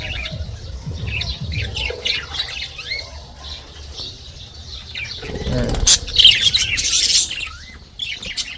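Budgerigars in an aviary make a dense chorus of chirps and squawks nearby. Wing flaps come in the middle, and a burst of shrill calls follows toward the end, with no speech.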